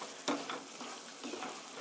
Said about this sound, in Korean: 이렇게 고루 섞어주시고요